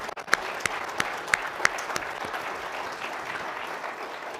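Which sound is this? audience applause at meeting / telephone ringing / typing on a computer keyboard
audience applause at meeting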